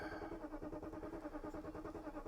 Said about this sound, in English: The engine really tries to crank, which is good.